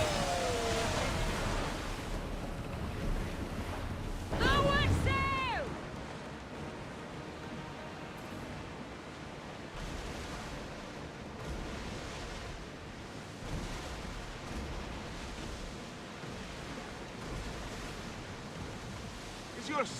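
Steady broadband wash of waves and wind around a ship sailing on open sea in Assassin's Creed Odyssey, continuous and fairly loud, with a brief musical swell and voices talking early on.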